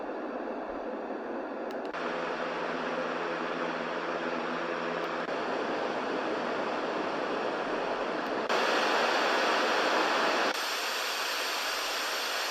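Steady broadband white noise hiss from a portable sound machine, changing in character a few times, with a brief tonal hum early on; constant and fairly loud, no voices.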